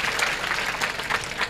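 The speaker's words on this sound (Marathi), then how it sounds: "तुम्हा स्वतःसाठी एकदा जोरदार टाळ्या होऊन जाऊ दे" An audience of students at an educational guidance camp claps steadily, producing a dense, even patter of many hands at moderate volume.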